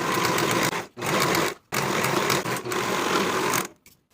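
A home sewing machine stitches the side edges of a denim skirt pocket in three bursts of steady whirring, broken by short pauses.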